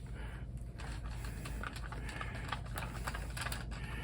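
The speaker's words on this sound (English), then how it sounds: "Let's unscrew the blade." A RYOBI door latch chisel tool has its blade unscrewed close up, with a steady run of small metallic clicks and light scraping that continue throughout without pause.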